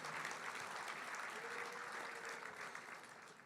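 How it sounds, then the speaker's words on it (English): A banquet crowd at a sprint car racing awards night gives a sustained, fairly distant round of applause, a dense even patter that fades slightly at the end. "Round of applause for Chris Jockish,"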